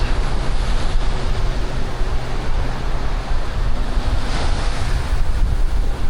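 Wind and surf on a beach at Playacar in Playa del Carmen, with sargassum on the shore: a steady, loud roar of breaking waves and gusting wind buffeting the microphone, continuous with no voices.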